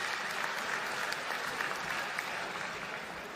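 A crowd gives a steady round of applause for Formula 1 drivers, an even wash of many hands clapping at moderate distance without pause.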